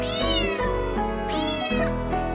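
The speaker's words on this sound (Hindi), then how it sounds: "बिल्ली मैंने पाली है, सर से दुम तक काली है" A black pet cat with blue eyes gives two long, drawn-out meows, loud and close, rising then falling in pitch. A steady musical backing plays underneath.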